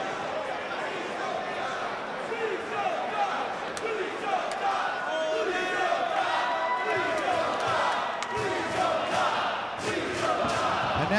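Arena crowd buzz and scattered cheering at a professional wrestling ladder match, a steady roar of voices with occasional shouts and thuds while a commentator talks over it.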